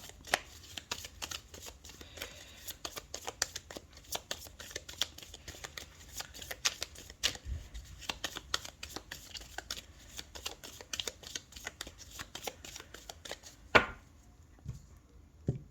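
Tarot cards shuffled by hand for a reading, a dense, fast run of close, crisp riffling clicks lasting about fourteen seconds before a final sharp snap and quiet.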